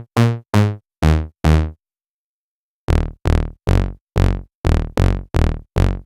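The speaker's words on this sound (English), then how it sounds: "The sound of LatelyBass is basically kind of a rubber band bass, very short." Short, plucky rubber-band bass on a BLEASS Omega synth, recreating the classic Yamaha TX81Z LatelyBass patch: four quick notes, a pause, then seven more clipped, evenly spaced hits, loud and dry with nothing else playing.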